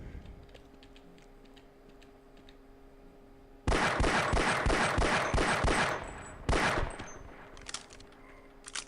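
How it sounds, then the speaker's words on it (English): Rapid burst of pistol shots fired at two Marines in the Half-Life video game, sharp loud cracks in quick succession, then a brief second volley after a pause, over a low ambient game hum. "we'll sneak shoot them to death with the pistol"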